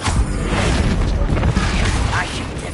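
A Bombarda explosion spell goes off in a Harry Potter video game, a dense, loud rumbling blast that holds steady for nearly three seconds.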